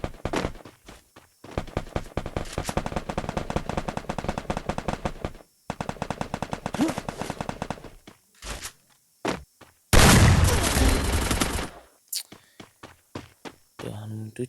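Video game machine gun fire in rapid sustained bursts, loud and close, broken by short pauses, a big explosive blast and single shots, with a player talking over parts of it.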